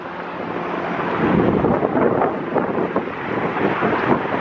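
A news helicopter flies overhead, heard as a steady broadband rumble and whir that swells slightly, mixed with wind buffeting the microphone outdoors.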